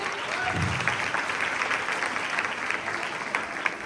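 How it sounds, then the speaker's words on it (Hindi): A church congregation claps in a steady, full round of applause after a sermon on baptism, the dense clapping holding evenly throughout with no voices over it. "आप सबकी भरपूर तालियों में"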